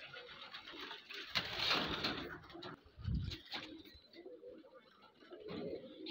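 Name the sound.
pigeons cooing in a pigeon farm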